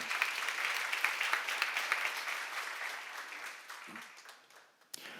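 Church congregation at a Romans seminar applauds together, a dense, lively burst of clapping that gradually thins and fades, ending with a brief knock.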